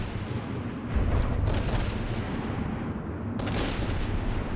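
Gunfire from the Black Sun pounds at the Muscovite in a video game battle, a dense, continuous rumble of distant cannon fire with two sharper volleys standing out, one near the start and one near the end.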